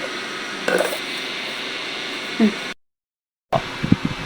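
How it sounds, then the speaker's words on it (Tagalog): A steady electric fan whirs as a constant airy hum, broken by a brief dropout of silence before the hum returns. "narinig po ingay ng electric fan"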